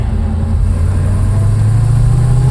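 A 1956 Chevrolet Bel Air's engine hums steadily at low pitch while the car drives along smoothly, a continuous close rumble with no other sounds.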